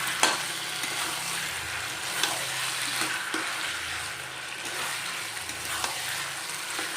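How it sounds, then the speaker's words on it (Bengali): Mutton with tomato and garlic sizzles and crackles steadily in a pan as it is stir-fried. A few sharp clicks of utensils come through, and no one speaks. "তো এই যে এবার টমেটো আর রসুনটা দিয়ে বেশ অনেকক্ষণই কষানো হবে"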